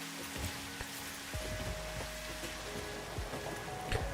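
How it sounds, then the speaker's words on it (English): Steady rain hiss from the video game Satisfactory, continuous broadband patter with occasional soft tones and clicks from the game layered over it, moderately loud throughout. "Just the rain in this game."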